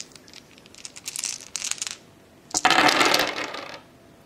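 Eight dice rolled for a board game, with clattering bursts of shaking followed by a loud spill of dice tumbling across a surface, close and without talk.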